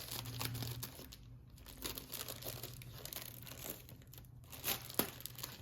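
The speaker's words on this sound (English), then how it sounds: "let me actually cut a smaller, more manageable piece" A smaller piece of mixed media paper is cut, giving quiet, close crinkling and rustling with a few crisp snips and one sharper snap near the end.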